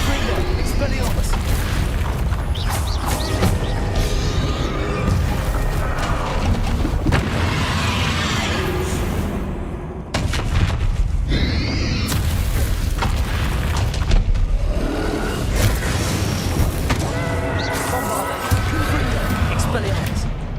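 Spell blasts in the Hogwarts Legacy video game, Confringo fire bursts booming repeatedly through a combat sequence, loud and dense under continuous game music and shouted character voices.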